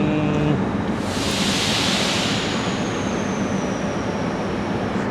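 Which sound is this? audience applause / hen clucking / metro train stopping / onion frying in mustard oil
metro train stopping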